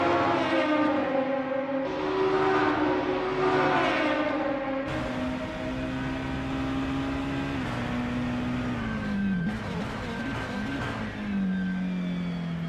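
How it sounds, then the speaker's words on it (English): Volvo S40 BTCC touring car in a sim racing game at the Sachsenring, its engine note swinging sharply through aggressive downshifts into second, then held on a feathered throttle, loud and continuous with no voices over it. "It's aggressive downshifting there into second."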